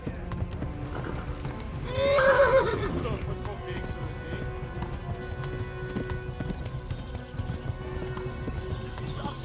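A horse in the medieval video game Kingdom Come Deliverance whinnies loudly once, with steady clip-clop hoofbeats running throughout under game sound.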